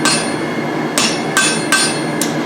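Hammer blows on hot steel as a blacksmith forges tongs, four sharp ringing strikes spaced under a second apart, close and loud against a quiet shop.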